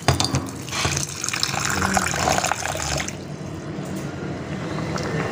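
Tap water runs steadily into a sink while tamarind is washed, a close splashing stream that shifts in tone partway through as the flow settles, continuous and without voices.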